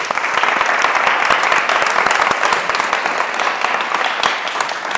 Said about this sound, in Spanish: vamos a acabar con un aplauso